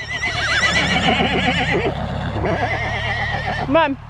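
Horses whinny repeatedly, loud warbling neighs close by, with a brief spoken phrase from a person.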